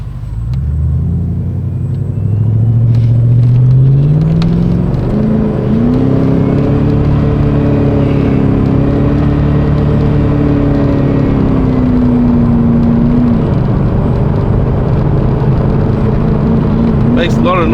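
A Mercedes SEL W126 pulls out into traffic and drives off, its engine rumbling low and revving up through rising gears, loud and close from inside the car, settling into a steady drone.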